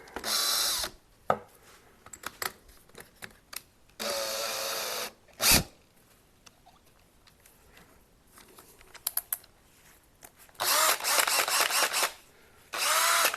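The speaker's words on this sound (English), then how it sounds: "We'll take this drill, my trusty Makita" A Makita power drill runs in several loud bursts of a few seconds each, separated by pauses filled with clicks and handling noise, as wood is shaped with a cutaway.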